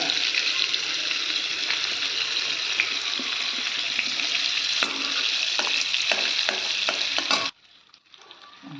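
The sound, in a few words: onion sautéing in butter and oil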